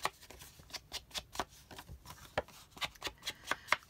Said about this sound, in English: So I'll just distress the edges